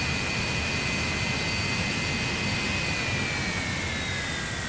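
An F-86 Sabre jet engine in the DCS flight simulator spooling down at shutdown in a hangar, a loud steady roar with high whining tones slowly falling in pitch, no talk.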